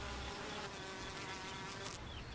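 Honey bees hum in a steady, close buzzing drone that fills the space, with a few individual bees passing nearer and louder toward the end.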